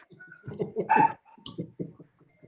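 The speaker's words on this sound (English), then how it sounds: "Quiet that dog there, chief." A dog barks in short bursts at moderate volume in the background of a town board meeting, a handful of yips and woofs separated by brief pauses.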